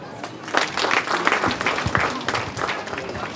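An audience at an International Women's Day celebration in Mahama refugee camp breaks into dense, sustained applause, many hands clapping together near and loud, with voices mixed in under it.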